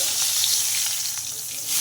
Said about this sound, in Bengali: এখানে ভাজা বসিয়ে দিয়েছি মাছটাকে